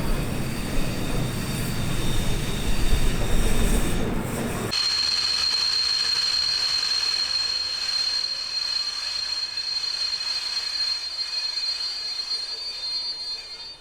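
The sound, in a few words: historic train arriving at Neustadt station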